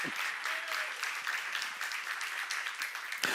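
Congregation applause at a church seminar, a steady wash of many hands clapping together, sustained and fairly even throughout with no break.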